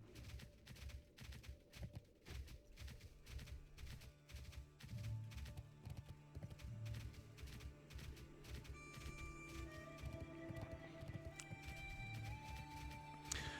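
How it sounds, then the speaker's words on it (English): In World of Warcraft, a horse mount that resembles the Headless Horseman's steed clip-clops with rapid, steady hoofbeats, mixed with game ambience, bird calls and a few soft chimes. "this horse does remind me a lot of the Headless Horseman's horse"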